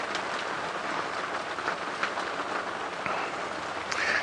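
Rain drumming on the roof of a safari vehicle during an evening game drive, a steady dense patter heard from inside the car, with a few louder drops standing out and no talk.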